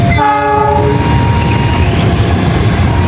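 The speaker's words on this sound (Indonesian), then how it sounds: "ini ada lokomotif CC206 sedang menuju ke depo loko Sitotopo" A CC206 diesel locomotive heading toward the Sidotopo depot near a busy Surabaya station. It opens with a loud horn blast, then a heavy, close rumble of engine and rolling wheels.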